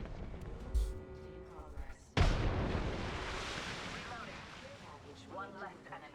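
A frag grenade explodes during a solo ranked battle-royale match, one sudden loud boom with a long rumbling decay, close by and following a stretch of quieter game sounds.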